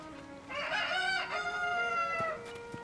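A Cuckoo chicken in Zelda: Tears of the Kingdom lets out a loud, drawn-out crowing squawk, followed by a couple of small clicks from the game.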